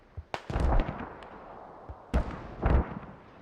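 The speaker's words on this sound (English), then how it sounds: "Smoke coming, artillery strike coming in." An artillery strike lands in the military shooter Squad: several sharp, distant booms arrive in two clusters, each burst followed by a short rolling rumble, with no talking over them.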